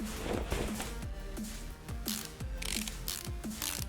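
A ratchet clicking in Car Mechanic Simulator while drive shaft bolts are tightened on an American WWII Jeep, repeated quick ratcheting strokes in a steady rhythm, close and clear, with no talking.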